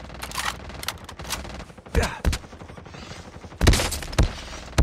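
Rapid bursts of FFAR 1 assault rifle fire in a battle royale video game, several short automatic volleys with gaps between them, loud and close, with no talking.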